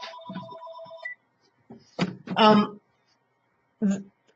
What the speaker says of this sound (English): Of course, not my phone's ringing